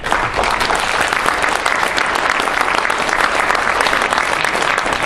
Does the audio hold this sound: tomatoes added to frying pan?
no